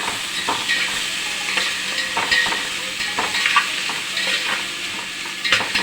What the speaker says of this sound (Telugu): ఉల్లిపాయ ముక్కల తర్వాత వేసి శుభ్రంగా వేయించుకొని